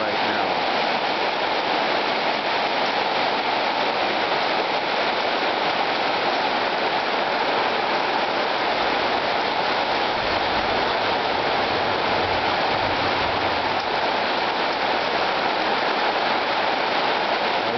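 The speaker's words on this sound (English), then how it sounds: "That is some pounding rain." Pounding rain pours down hard and steadily, a dense, loud, unbroken roar of water that fills the whole stretch with no let-up.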